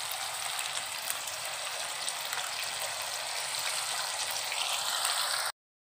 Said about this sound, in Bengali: এবার এইভাবে আমি বাকি সব মাংসগুলোকেও একইভাবে ভেজে নেব